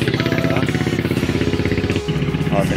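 Small river boat engine running steadily and loud up close, a rhythmic throbbing chug as the boat pushes through thick water lilies while the overworked engine smokes.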